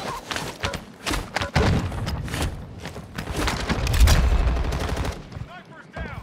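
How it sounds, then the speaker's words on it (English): Rapid bursts of gunfire in the video game Clutch Flare, loud, dense volleys of shots with heavy thuds across several seconds, close and dominant. "He's shooting at me."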